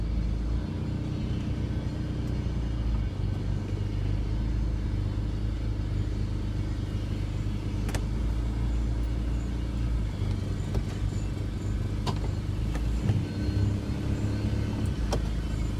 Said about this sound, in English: Into reverse, let her test, get into the gears slowly, chug her back.